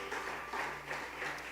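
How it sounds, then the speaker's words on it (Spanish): Steady applause from a church congregation fills the space, a dense continuous patter of many hands clapping with slight swells, no talk over it. "denle el aplauso al Señor"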